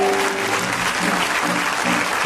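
A church congregation applauds during a sermon, a dense, steady wash of many hands clapping at full volume with a faint sustained voice or tone underneath.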